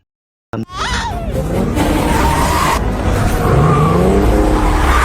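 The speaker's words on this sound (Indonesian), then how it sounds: "skill Morgan dalam mengemudi yang membuat sang istri takjub dengan manuver-manuver edan yang dilakukan oleh Morgan" A car skids hard during stunt driving maneuvers, tires squealing loudly and continuously under a roaring, revving engine, close and sustained after a sudden start from silence.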